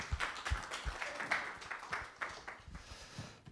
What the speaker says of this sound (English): Then another round of applause.